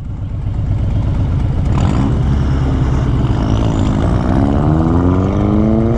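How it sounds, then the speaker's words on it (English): A loud engine roars steadily close by for about six seconds, its pitch rising as it accelerates, with the harsh raw note of a vehicle exhaust running without a muffler. "Somebody needs a muffler!"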